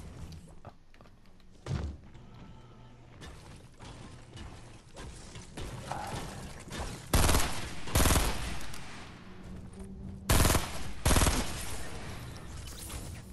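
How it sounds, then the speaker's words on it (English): Gunfire in Fortnite: scattered bursts and single shots at mixed distances, some sharp and close, over clanking mechanical game sounds, with louder volleys toward the end. "Why is there someone shooting?"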